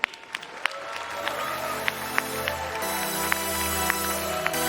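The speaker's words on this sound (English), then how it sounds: "Please give the armor category a huge round of applause" Steady applause from a crowd at the TwitchCon 2019 cosplay contest, sustained clapping filling the room with a few sharper claps standing out, continuous throughout.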